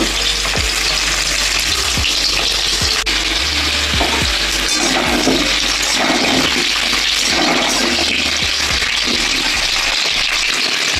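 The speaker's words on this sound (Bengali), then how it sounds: "আলু কুচুটা ভাজা হোক" Potato and taro pieces with green chilies fry in a pan, a loud, dense, continuous sizzle with repeated scraping stirs cutting through it close up.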